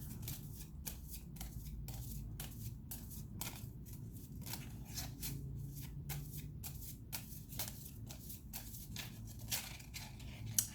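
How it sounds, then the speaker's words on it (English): Tarot cards being shuffled in quick, papery riffles and flicks, a steady run of soft crisp bursts close by, with a low background hum and no talking. "my shuffling is so messy"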